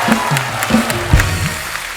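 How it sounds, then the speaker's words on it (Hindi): A studio audience on a comedy talk show claps loudly, a bright patter of applause with low voices and murmurs audible beneath it. "तालियां।"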